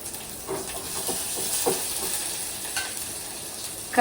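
Long-sliced onions for tomato charu frying in a pan, a steady close hiss and sizzle with soft stirring scrapes scattered throughout.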